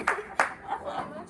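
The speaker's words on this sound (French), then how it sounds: "Il y a que Manon qui applaudit" A single person claps alone at a women's jersey presentation, two sharp nearby claps followed by softer ones, with voices talking over the end.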